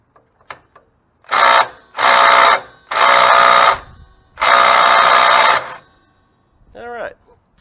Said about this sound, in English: I'm going to go ahead and put the gun on it, try to break the bolts loose here